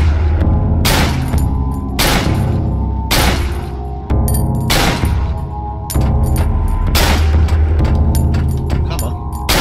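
Pistol shots in the horror game Cry of Fear, a run of heavy booming reports about one per second over a loud, droning game soundtrack.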